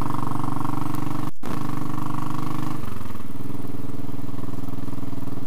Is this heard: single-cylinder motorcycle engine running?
yes